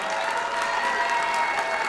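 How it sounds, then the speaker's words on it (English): Audience at a high school honors and awards ceremony applauding the student body president for emceeing, an even, steady round of clapping from a sizable crowd with no pause. "deserves a nice round of applause for emceeing tonight"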